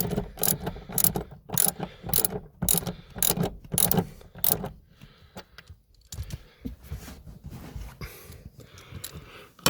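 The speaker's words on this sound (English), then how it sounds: "Let's just change the direction of my socket. Or ratchet, I should say." A socket ratchet clicks in rapid bursts for about five seconds, loud and close, then falls to quieter intermittent mechanical handling with no talk.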